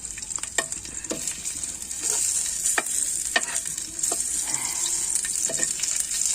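Vegetables and garlic sautéing in hot oil in a pan, a steady sizzle with repeated clinks and scrapes of stirring throughout, close and clear.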